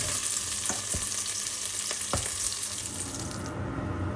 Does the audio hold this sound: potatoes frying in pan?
yes